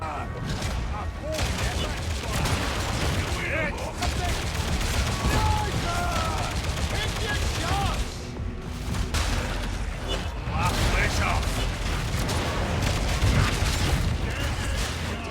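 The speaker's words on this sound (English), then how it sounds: "the Reconnaissance Laser Rifle has very good hip-fire accuracy, allowing it to take out a lot of enemies with sustained fire" Sustained fire from the Reconnaissance Laser Rifle in Warhammer 40k Darktide comes as dense, rapid bursts of shots layered over other in-game combat noise, loud and nearly continuous with brief pauses, while a voice talks over it.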